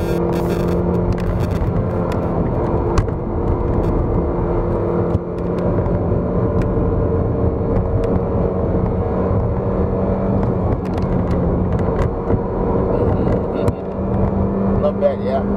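A Kia Cerato 1.6 sedan cruising in third gear, its engine giving a steady, loud in-cabin drone with a sustained low hum throughout and small ticks and bumps from the road.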